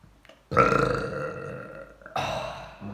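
A person lets out two long, loud burps back to back during a burping challenge, each a drawn-out croak up close with no talk over it.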